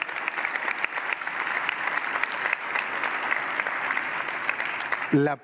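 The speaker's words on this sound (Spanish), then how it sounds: "me encanta que los aplaudan" An audience applauds members of an economic team at a public talk, with sustained, dense clapping from the crowd that continues throughout before a short burst of voice at the very end.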